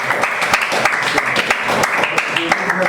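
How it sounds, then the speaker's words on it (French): A classroom of students claps together, steady dense applause lasting a few seconds with scattered individual claps standing out, while voices murmur faintly underneath. "Applaudissez-moi."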